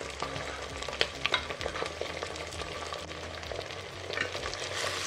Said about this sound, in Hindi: तो यहाँ पर हम डालेंगे धुला हुआ और छना हुआ 800 ग्राम मटन।